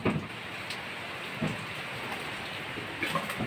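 Steady, light rainfall easing off in a garden setting, a soft continuous hiss with a few faint drips, even and low in level throughout with no voices.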